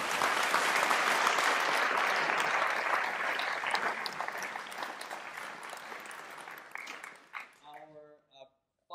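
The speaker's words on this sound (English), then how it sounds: "so another applause" An audience applauds at a chamber music concert at Spoleto Festival USA 2022: loud, dense clapping from many hands gradually thins and fades, and a single voice begins speaking as it dies away.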